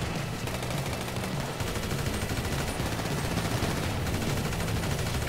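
Automatic gunfire rattles nonstop in GTA 5 Online's Resurrection adversary mode, loud and close rapid shots over a dense, constant din.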